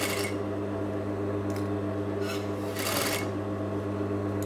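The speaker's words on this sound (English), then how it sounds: "I'm just sewing about 1 centimetre away from the edge" A sewing machine runs continuously, stitching fabric knife pleats about one centimetre from the edge with a steady close mechanical hum and a few soft rustling bursts of fabric handling.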